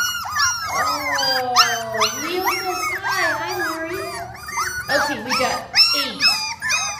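Six-week-old puppies from a litter of eight whimper and yelp in a dense overlapping chorus of high, wavering cries, close and loud, with a person talking excitedly over them.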